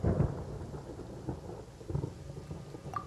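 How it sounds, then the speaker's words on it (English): Thunder rolls through a rainy storm in a Genshin Impact cutscene set in Sumeru, with a low rumbling burst at the start and further distant grumbles under steady rain. "Paimon hears thunder!"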